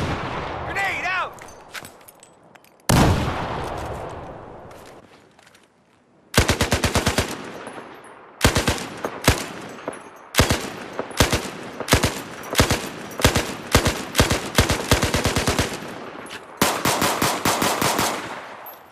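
Machine gun fire from the video game Battlefield 4 comes in loud, rapid bursts of sharp shots, opening with a single heavy blast and then repeated volleys separated by brief pauses.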